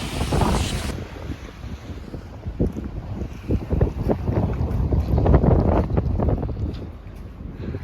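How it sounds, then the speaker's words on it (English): Snowstorm wind outdoors in Toronto buffets the microphone in irregular gusts and rumbles, with a loud rushing burst at the start, then uneven whooshing bursts. "It's snowing like crazy."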